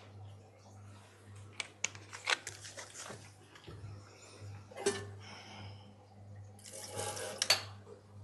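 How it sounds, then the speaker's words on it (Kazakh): Mineral water poured into a tall highball glass at a drinks-making bar demonstration: a short, fizzy pouring rush late in the clip, with scattered clinks and taps over a steady low electrical hum. "Минералды суды жоғарғы хайбол бокалының жоғарғы бөлігіне дейін құямыз"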